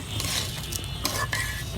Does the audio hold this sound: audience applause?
no